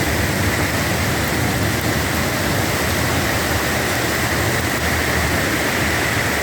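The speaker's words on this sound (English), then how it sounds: "The rain is coming from the west." Heavy thunderstorm rain pours down in a dense, steady roar, loud and close throughout with no pauses and no voices.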